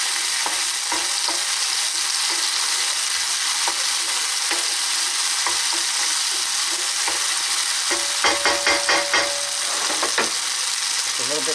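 Garlic cloves fry in oil in a pan on an electric stove, a steady broadband sizzle running throughout with soft utensil scrapes and a brief cluster of clatter near the end, no voices.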